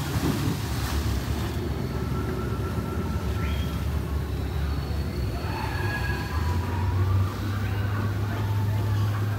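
Boat ride on the Rivers of Adventure attraction at Hong Kong Disneyland, with a steady low engine rumble, water and wind noise throughout, and a deeper drone swelling near the end.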